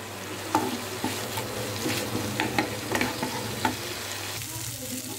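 Spice paste with asafoetida frying in a pan for a potato dish served with puri or kachori: a steady close sizzle broken by repeated scraping stirs, with no voices.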